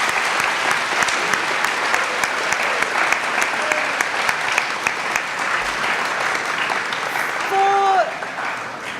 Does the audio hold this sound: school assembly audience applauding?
yes